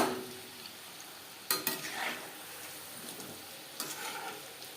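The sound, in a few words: moong dal puli frying in a pan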